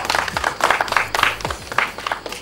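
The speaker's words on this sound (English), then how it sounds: "A round of applause for" A round of applause rises in quick bursts of clapping from a small group, uneven and fairly close, with low thumps underneath and no one speaking over it.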